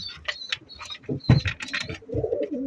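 Budapest pigeons cooing and fluttering close by in a small loft, soft throaty calls coming in short bursts.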